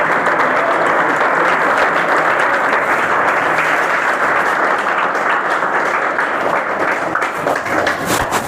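Loud, sustained applause from a church congregation, dense clapping that fills the room evenly for the whole stretch without pause, with no speech over it.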